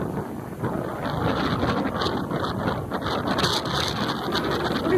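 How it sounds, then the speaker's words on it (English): Steady wind buffets the microphone while riding into a headwind toward the beach, a loud, continuous broadband rush with an engine-like rumble beneath it and no talking. "Pretty good wind, but we're going into it, so it seems more."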